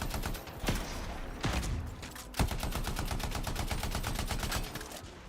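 Rapid automatic weapon fire in the sci-fi shooter Anthem, a long, evenly spaced stream of shots punctuated by a few heavier blasts, loud and close, with no speech.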